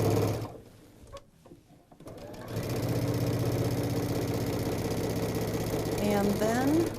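A sewing machine runs a quarter-inch seam down the side of a quilted tote bag. After a brief pause it keeps up a steady, close, rapid mechanical chatter, and someone talks over the stitching.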